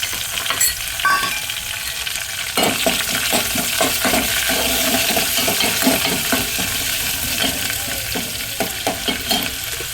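Curry leaf sprigs drop into hot oil for a tempering with garlic cloves, setting off a steady crackling sizzle punctuated by sharp pops and the scrape and clink of stirring, close and continuous.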